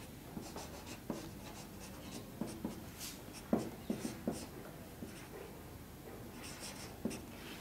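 Quiet pen-on-paper writing while working a chemistry problem: scattered soft taps and short scratchy strokes in uneven bursts over several seconds, faint and close, with no talk.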